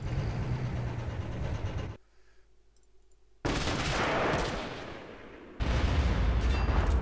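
Dense gunfire and heavy artillery blasts roar in a Men of War: Assault Squad battle around Belarus, continuous loud fusillades broken by a brief quiet lull, then resuming at full intensity.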